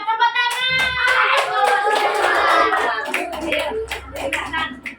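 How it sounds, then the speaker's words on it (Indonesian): Children clapping in a classroom, a quick run of sharp hand claps that follows a group of young voices chanting together, close and lively. "Siap, tepuk tangan."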